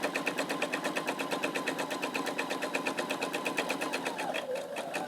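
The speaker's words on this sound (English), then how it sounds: "I'm going to pivot and stitch up that line." Close, steady stitching from a sewing machine working along a fabric Christmas tree napkin, a fast even needle chatter that holds throughout and tapers slightly near the end, with no voices.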